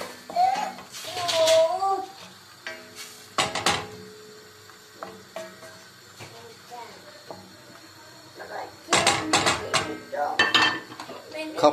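A pot of tomato-sauce pasta gets stirred, with scattered clinks and scrapes of a utensil against the pot coming in bursts between stretches of quieter kitchen sound and some voice.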